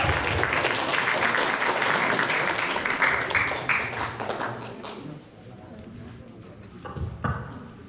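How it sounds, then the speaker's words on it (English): An audience at a training session gives a round of dense applause that thins and fades after a few seconds, leaving room noise and a few scattered claps near the end. "Everybody round of applause."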